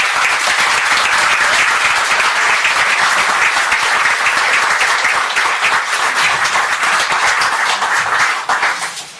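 An audience gives loud, sustained applause for a woman about to present a talk on spiritual messengers, dense clapping close by that holds steady and tapers slightly at the very end.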